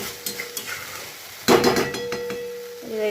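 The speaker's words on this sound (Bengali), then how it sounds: "ভালো করে ভেজে নিচ্ছি" Masala spice paste frying in oil for potol chingri, a steady sizzle with a stirring spoon scraping and clinking against the pan, louder scraping in the second half.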